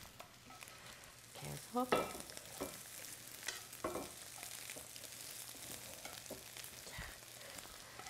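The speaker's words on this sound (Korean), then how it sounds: "이렇게 야들야들하게 오므라이스 이렇게 달걀 볶음이라고 하죠." Soft scrambled eggs stir-fried in a pan for an omelette-rice style dish, a steady low sizzle with occasional scraping and tapping of a utensil, fairly quiet.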